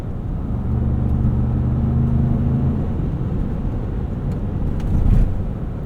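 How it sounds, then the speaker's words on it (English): The V6 engine of a 2025 Ford Expedition Max Platinum SUV drones with a deep, low growl while driving, steady road rumble underneath, fading slightly then swelling again near the end. "this is the most convincing V8 sound that I've ever heard from a V6"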